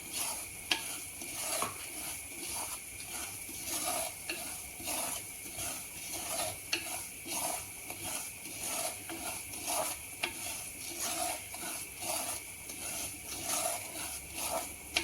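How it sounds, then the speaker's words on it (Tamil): Cashews being roasted in ghee for the Chettinad ukkarai sweet, a light sizzle under rhythmic stirring scrapes and clicks in the pan, close and steady, with no talking. "ஒரு அவை எடுத்து இந்த நெய்யில் வந்து போட்டு வறுக்கணும்"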